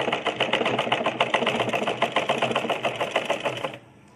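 A sewing machine stitches cloth for a cross-cut blouse neck piece in a fast, even run of close mechanical clatter that stops abruptly near the end, leaving near silence.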